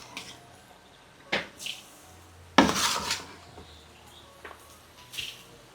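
Clattering of utensils against a wok with a few soft squishy scrapes as softened mung bean filling is transferred in, several distinct knocks spaced irregularly, no talking.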